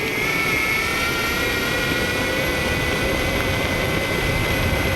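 An Evolve GTR belt-driven electric skateboard with a freshly cleaned drive system produces a steady, loud, smooth high-pitched whine over a constant rushing hum, unbroken and without speech.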